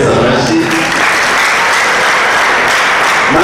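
A worshipping congregation applauds for Jesus in church, a loud, sustained wash of many hands clapping close by, with voices mixed faintly underneath.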